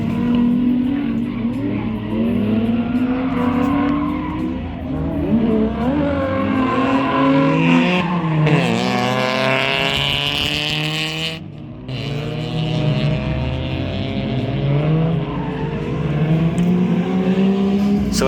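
A drift car on a track at a Matsuri event is thrown around under sustained throttle, its engine revving loud and continuous with rising and falling pitch sweeps and tire squeal as it slides, close and steady throughout.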